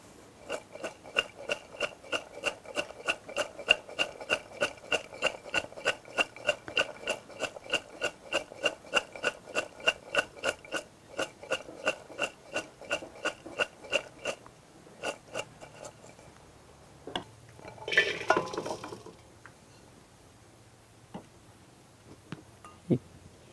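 Chopped raw papaya, cucumber and green chilli pieces for a mixed pickle being stirred together in a bowl, a steady run of quick, close clinks and scrapes that thin out partway, with a brief louder rustle near the end.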